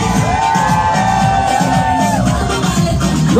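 A concert crowd shouting and whooping together in Knoxville, Tennessee, loud and sustained, with cheering voices overlapping throughout.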